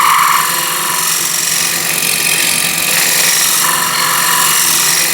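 A scraper cuts a wooden bowl spinning on a lathe, giving a loud, steady, broadband hiss and rasp that runs unbroken throughout with slight swells in intensity.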